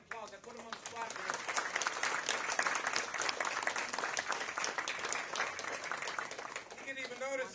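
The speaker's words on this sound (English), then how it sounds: "Let's give this man applause." Audience applause at a Veterans Day ceremony, a sustained burst of many hands clapping that swells and holds for several seconds, heard at moderate distance, with a voice speaking at the start and end.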